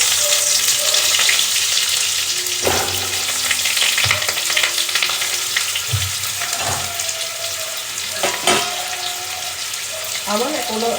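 Potatoes frying in a pan in a home kitchen, a loud continuous sizzle with occasional clunks and stirring knocks close by, no speech.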